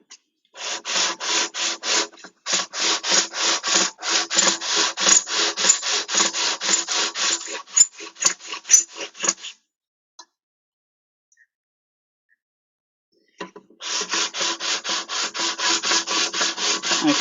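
Sandpaper is rubbed back and forth over the metal frets of a ukulele fingerboard in rapid, even strokes, loud and close, stopping for a few seconds of near silence before the rhythmic scraping resumes.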